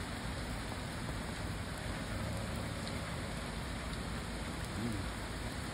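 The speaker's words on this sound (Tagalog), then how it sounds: "Maulan, masama panahon." Rain falls in bad weather as a steady, dense hiss that stays even throughout, with no distinct drops standing out.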